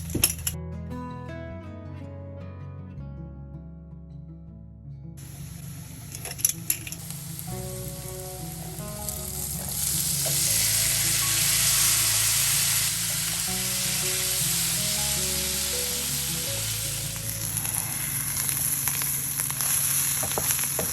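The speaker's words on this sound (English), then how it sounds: "I cooked the chickpeas until they got a little crispy, and then I removed half of them from the pan." Chickpeas cooked from dried fry in a pan until crispy: a few clinks and stirring knocks at first, then a broad, steady sizzle that swells loudly in the middle and carries on close up to the end.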